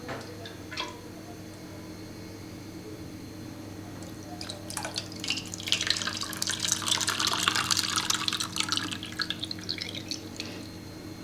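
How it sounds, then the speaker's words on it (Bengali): Meat broth from chicken biryani poured through a strainer, a trickling, splashing liquid sound that builds in the middle and tapers off, close and fairly quiet over a low background hum. "মাংসর যে ঝোলটা ছিল এটা ছেঁকে নেবো এবার"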